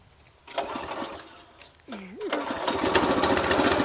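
A small mini tractor engine sputters and catches, then runs steadily with a loud, rough drone; people talk briefly before it starts.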